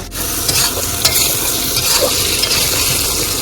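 Spice masala is stirred and fried in a pan, giving a loud, close sizzle with repeated scraping strokes of a spoon. No voices.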